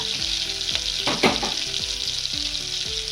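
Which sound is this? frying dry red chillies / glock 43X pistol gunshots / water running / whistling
frying dry red chillies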